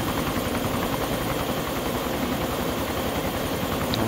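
A helicopter engine in the video game DayZ runs with a loud, constant rotor drone and engine hum that holds steady and close for the whole stretch, with no talking.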